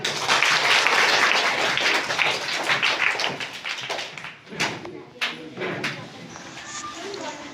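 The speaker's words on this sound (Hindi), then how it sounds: "दीप्ति सिंह के लिए जोरदार ताली" A school audience at a Teachers' Day assembly in India breaks into loud, close clapping that thins out after a few seconds into scattered taps and knocks.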